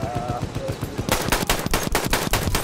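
Rapid automatic gunfire rattles in Battlefield 1, a dense burst of loud, evenly spaced shots after a moment of rumbling battle noise, close and sustained.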